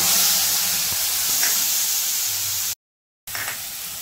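Spice paste hits the leftover fish-frying oil for a katla tel jhal curry, a loud, harsh, close sizzle that runs steadily, cuts out briefly, then resumes.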